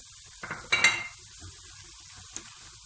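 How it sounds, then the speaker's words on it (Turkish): A spoon scrapes and stirs a sizzling parsley and garlic filling for stuffed eggplant in a pan, two short bursts of clinking and frying, then a faint tap. "Şimdi güzelce karıştıracağım"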